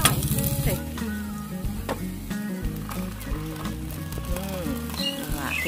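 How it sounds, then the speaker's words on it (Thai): Tuna being stir-fried with chili while camping at a tent campground in Phetchaburi: a continuous sizzling hiss with scraping stirs, under nearby talk and other background voices. "ผัดปลาทูน่าค่ะ ใส่พริกด้วยเบิด"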